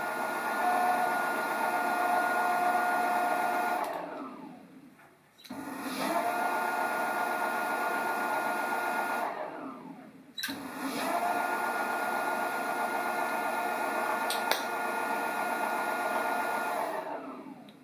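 Two hoverboard hub motors spinning wheels on a homemade trike build, a steady electric whine that runs for several seconds, winds down, then spins back up, three times in a row, fairly close and with no talk.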